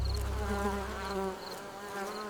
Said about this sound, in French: L'abeille bourdonnait doucement en chantant.